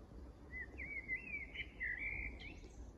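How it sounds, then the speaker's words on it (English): Outdoors, a single bird sings a thin, warbling phrase lasting a couple of seconds, faint over a low rumble of wind and background noise. "Can you hear the bird song?"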